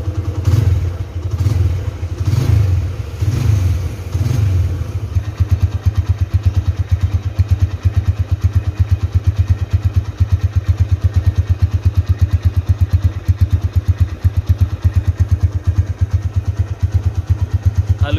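A 2010 Honda Tiger Revolution motorcycle engine revs in a few throaty bursts, then settles into a steady, loud, rhythmic idle close by.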